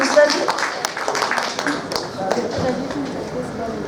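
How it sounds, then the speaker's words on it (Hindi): A crowd claps to welcome a Lions Club guest at a theatre festival, with scattered, uneven hand claps of moderate loudness while a voice talks over them. "जोरदार तालियों से उनका स्वागत करिए"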